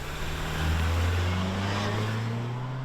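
A 2023 Honda HR-V engine spools up smoothly, a low steady drone rising gently in pitch over a couple of seconds, heard from inside the cabin with no talk.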